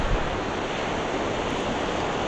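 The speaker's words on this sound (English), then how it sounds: "Look at this surf coming in, the water's going over my rods." Ocean surf rolling in on St. Joe Beach, water washing up over fishing rods, a steady loud roar of breaking waves with wind noise and no voices.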